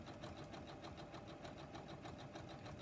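A sewing machine stitches through quilting fabric at a fast, steady, continuous chatter, loud and close, with no talk over it.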